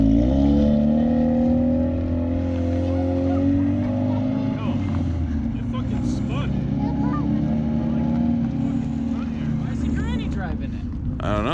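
Car engine running loud and close as it pulls away to be driven around the block, a steady droning rumble with shifting pitch and faint tire noise, with people talking over it.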